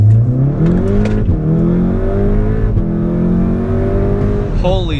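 Stage 2 VW Golf R accelerating hard through first, second and third gear, engine note climbing steadily with a brief dip at each upshift, loud and close, ending with a short whoosh of wind and whir.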